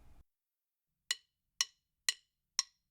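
A drum corps rhythm of sixteenth notes leading into a quarter note sounds as four sharp, evenly spaced percussive hits, close and crisp, each decaying quickly into silence after a short opening noise.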